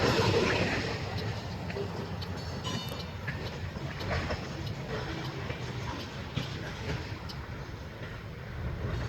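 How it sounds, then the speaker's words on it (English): A released boxcar rolls away along the track at the end of a consist in the Canadian National North Fond du Lac yard, with faint rhythmic wheel clicks and rail rumble at a moderate distance, steady and unaccompanied by speech. "Yep, there goes a boxcar. Just released at the end of the consist. It's just rolling away."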